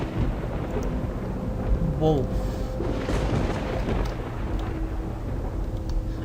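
Deep thunder rumbles and booms through a storm in the video game The Path, swelling around the middle, while a person talks briefly over the continuous stormy background.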